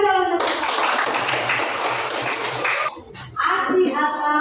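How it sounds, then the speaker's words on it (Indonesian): A school class applauds in a Catholic religious education lesson in Indonesia: a burst of dense, steady hand clapping from many pupils lasting a couple of seconds, cutting off abruptly before a voice begins speaking. "Tepuk tangan salah satu."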